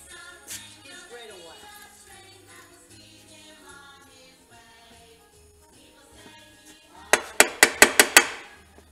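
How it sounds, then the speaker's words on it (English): A hammer taps metal parts during a rebuild of a 1972 Honda CT70 engine: a quick run of six sharp, ringing metallic strikes near the end, preceded by quieter workshop clatter. "I gotta get a hammer."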